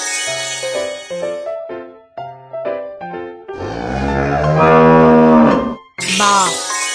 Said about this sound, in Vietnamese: Bò.